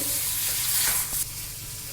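A crunchy snack mixture with sugar is stirred and sautéed in hot oil, giving a dense close sizzle with a brief scraping stir, loud and steady with no talk.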